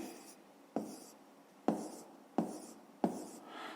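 A pen strokes across paper in short bursts, with four crisp taps as it lands, close and fairly quiet, the scratching of a worked maths problem being written out with no voice over it.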